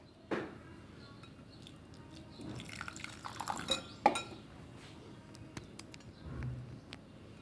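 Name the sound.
milk being added and mixed into cream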